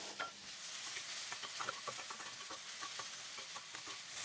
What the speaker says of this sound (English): now in this oil, we are going to brown our mushrooms